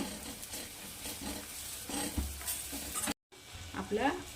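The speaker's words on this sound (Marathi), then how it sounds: "आता याला छान मिक्स करू" Potato and eggplant curry being stirred in a pan, a Vidarbha-style spiced gravy dish with crushed roasted peanuts, giving repeated scraping stir strokes with soft sizzling, a short dropout near the end, then more stirring.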